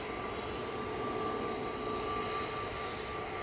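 An Airbus A320neo-family airliner, registration G-VEYR and only months old, arrives at Manchester Airport after a seven-hour flight from Atlanta, its engines giving a steady, loud jet roar with a faint high whine throughout.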